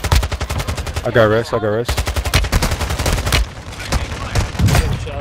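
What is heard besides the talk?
gunfire in the video game Warzone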